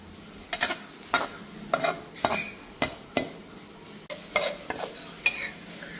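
Thai holy basil stir-fried in an oiled pan, a utensil scraping and clanking against the metal in a steady rhythm of sharp strokes over a soft sizzle.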